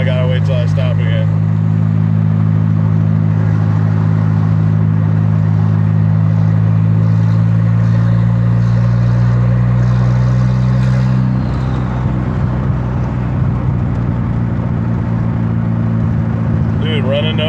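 Big turbocharged Volvo engine running with no exhaust, a loud, deep, continuous drone heard from close by while cruising, shifting in pitch partway through, with no speech over it.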